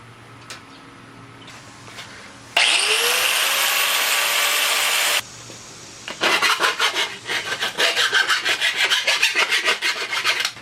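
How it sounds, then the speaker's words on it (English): A steel fender on a Schwinn Meridian trike is cut through with a tool, first in a long continuous loud grinding rasp, then in rapid rhythmic sawing strokes, close and alone. "We're going to cut our fender here at 4 inches away from the front of the"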